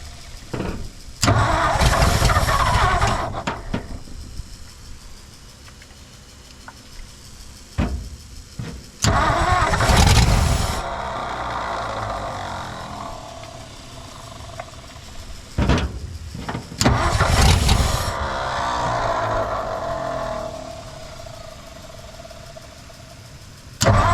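The Y-Block engine of a 1959 Ford F-600 straight truck cranks in several loud bursts, with pauses between attempts. It catches briefly and sputters rough and close, then cranks again.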